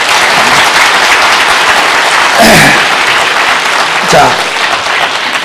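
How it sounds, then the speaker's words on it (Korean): A church congregation applauds during a service, broad clapping that swells and dips over several seconds with a speaking voice briefly heard over it. "다시 박수 한번."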